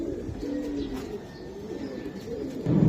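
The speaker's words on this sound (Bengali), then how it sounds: "এই যে দেখেন এটা বেজি কবুতর" Pigeons coo in low, soft, repeated throaty calls close by, with some faint chirps in the background and no talking.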